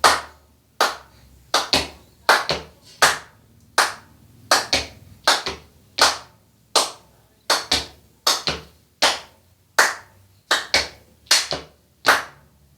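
Hand claps in a maracatu baque virado body percussion rhythm, crisp close claps repeating in a steady syncopated pattern of pairs and singles, played slowly and alone without talk.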